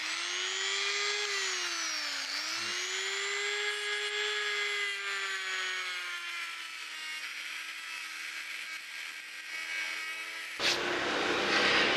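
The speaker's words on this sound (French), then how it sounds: "J'ai monté une lame de disqueuse là." An angle grinder fitted with a cutting disc whines steadily while working the epoxy resin handle of an Opinel knife, the high pitch dipping under load and then rising again, before a louder rough grinding burst at the end.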